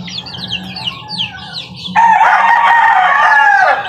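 Backyard chickens being raised alongside young chicks, a run of quick clucks and chirps followed by a loud sustained rooster crow, all close and prominent.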